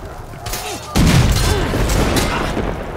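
A bomb blast in the video game Risen 3 lands as a sudden heavy boom about a second in, followed by a rumbling, crackling tail, with a voice reacting over the din.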